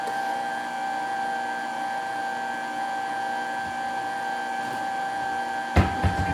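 A stand mixer churns French bread dough with a steady, even motor whir that runs without a break, followed by a few brief knocks near the end.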